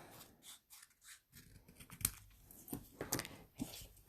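Scissors snip through designer series paper, a faint, close run of small crisp cuts and crunchy paper rustles coming in short irregular bursts with no talking.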